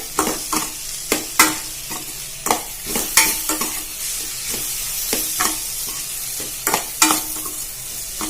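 Vegetables sautéing in a pan for a leftover-rice dish, with a continuous sizzle broken by repeated sharp scraping strokes of a spatula stirring at an uneven rhythm, close and fairly loud, no talking.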